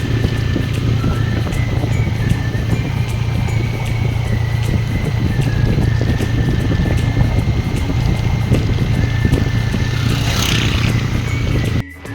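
A motorcycle carries its rider along at a steady pace, the engine droning low and constant under heavy wind buffeting on the microphone, with no pauses and no voices until a sudden cut at the end.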